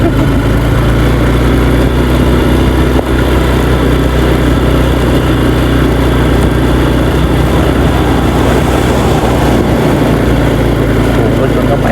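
A Honda Wave motorcycle engine labours in low gear while climbing a steep hill, droning loudly and continuously up close with wind buffeting, as a rider talks over it.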